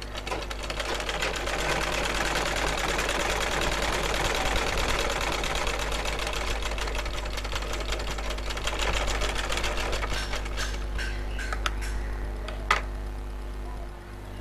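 Sewing machine stitching a blouse tuck runs steadily as a fast, even mechanical patter, close and continuous, slowing near the end with a sharp click.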